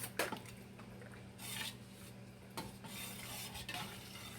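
Canned gravy is stirred in a pan on the stove, with faint spoon scrapes and taps against the metal over a low hum and soft bubbling.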